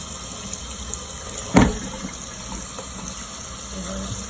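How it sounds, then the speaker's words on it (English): Tap water runs steadily into a bowl as rice is washed, a continuous close hiss with one brief splash or clunk in the middle. "is very popular to wash your rice"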